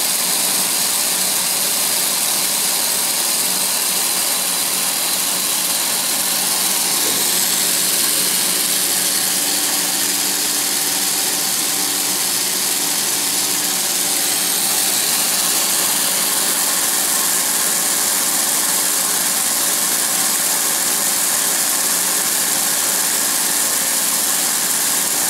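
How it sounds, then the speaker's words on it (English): A LEGO bubble blower machine runs continuously with a loud, steady motorized whir and fan-like hiss that holds nearly unchanged throughout, with no talking. "LEGO Bubble Blower"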